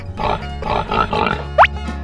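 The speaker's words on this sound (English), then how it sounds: "Pig." A pig grunts several times in quick, rough bursts, close to the microphone, followed by a short high squeal.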